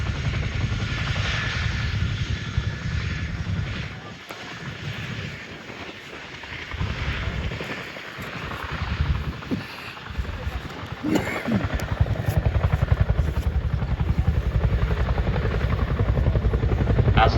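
A Boeing Chinook twin-rotor helicopter performs an airshow display at RAF Cosford, its loud, heavy rotor thump and engine roar filling the whole stretch close by and steady, dipping briefly in the middle before swelling again.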